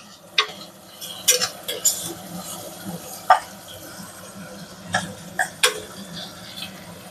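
Prawn biryani masala with onions fries in a pot and is stirred, giving a soft sizzle under scattered sharp clinks and scrapes of a spoon against the metal, quiet and close.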